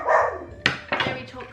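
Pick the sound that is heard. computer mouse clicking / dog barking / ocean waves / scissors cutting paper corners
dog barking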